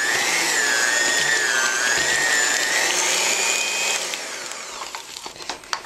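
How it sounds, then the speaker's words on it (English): An electric mixer beats egg and vanilla extract into cookie dough, giving a loud, steady whining motor drone at close range that winds down and stops after about four seconds, leaving faint knocks. "you add your egg and 2 teaspoons of vanilla extract, and beat that for a few seconds to make sure it's all mixed together"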